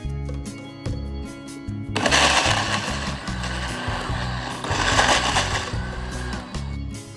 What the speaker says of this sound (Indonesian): Jangan lupa ditutup blendernya, terus langsung kita blender aja sampai halus.